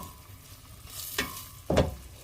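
Onions fry in a pan as the base for a mutton stew, a soft close sizzle punctuated by two brief louder bursts of stirring or scraping.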